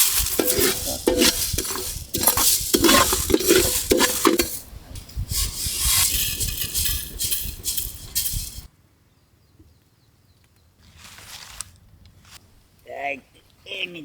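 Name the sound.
dry roasting coriander seeds, pepper and cumin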